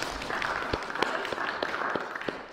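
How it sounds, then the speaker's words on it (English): A church congregation claps during an in-person Pentecost Sunday worship service, a steady patter of hands in a moderately distant room, with some low murmuring underneath. "Yeah, clap, go ahead."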